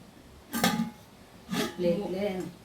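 Bowls and kitchen utensils are handled in two short bursts of clinking and clattering, close and fairly loud, with a voice heard alongside the second burst.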